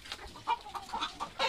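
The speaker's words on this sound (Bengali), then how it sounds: "এই যে মুরগির ঘর, এটা হচ্ছে মুরগির ঘর। মোটামুটি ভালোই মোরগ মুরগি আছে" Chickens and roosters kept in a coop in Saudi Arabia, clucking softly in a string of short, overlapping calls at close range.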